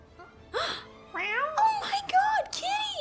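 A cat in the video game Gravity Rush 2 gives a run of high, rising and falling meows, several in quick succession, fairly close and clear.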